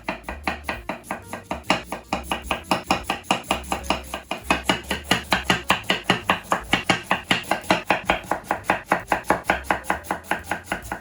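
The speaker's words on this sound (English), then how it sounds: "I cut out the core and slice the cabbage as thinly as I can." A knife thinly slicing cored purple cabbage on a cutting board, a fast, even run of crisp, crunchy chops repeating close up for several seconds with no voices.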